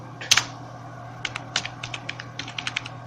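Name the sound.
typing code on a computer keyboard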